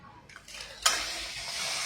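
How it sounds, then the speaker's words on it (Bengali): Papad sizzling in hot oil, a soft hiss that swells suddenly with a sharp burst as the papad hits the oil, then a steady close crackle. "সব আমার পাপড় ভাজা হয়ে গেছে।"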